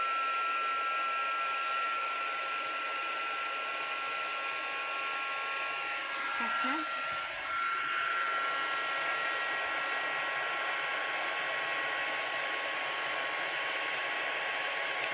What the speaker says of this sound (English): get your heat gun, excuse me, and warm it up